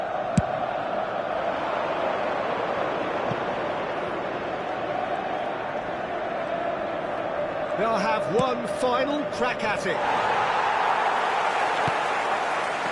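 Stadium crowd noise from an eFootball match, a steady roar of spectators under a commentator's voice, with a brief swell of chanting and whistling partway through.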